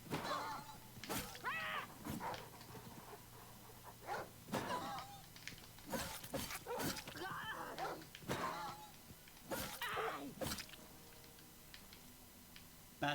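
A dog in a roleplaying video game barks and whimpers in short, sharp bursts, scattered among clicks and thuds across a busy game soundtrack, with people talking now and then.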